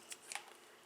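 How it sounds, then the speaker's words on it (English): Scissors cut through vinyl for a sewn pouch project, giving two or three quick, crisp snips within a second, close and quiet with no talking. "So I'll go ahead and cut this one as well with my scissors"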